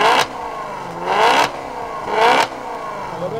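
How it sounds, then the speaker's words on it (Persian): A Maserati Quattroporte in normal drive mode revs close by in two short blips over a steady idle, each rising and falling within about a second. "بریم با هم صدای ماشین رو گوش کنیم، ولی اول روی حالت عادی و بعد رو حالت اسپورت."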